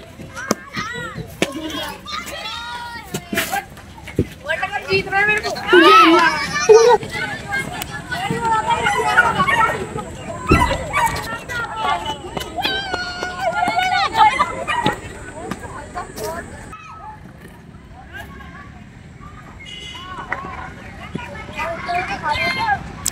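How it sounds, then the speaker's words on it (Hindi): A busy park crowd with children shouting and playing, scattered chatter and an adult voice talking nearby, with a few sharp noises over the general hubbub. "लेकिन अभी भीड़ भाड़ हो रही है।"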